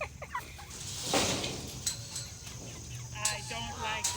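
A flock of homestead chickens clucks and squawks nearby in a busy, overlapping chorus during evening chores, with faint voices in the background.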